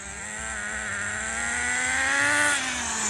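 A Team Associated RC10GT2 nitro RC car drives in a parking lot, its small engine giving a continuous high-pitched whine that climbs slightly in pitch, then dips near the end.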